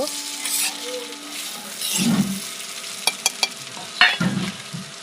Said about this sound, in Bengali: দিয়ে দেব ডিমটা, যে ভেজে রাখা ডিমটা ছিল সেই ডিমটা দিয়ে দেব, দিয়ে ভালো করে নাড়িয়ে নেব।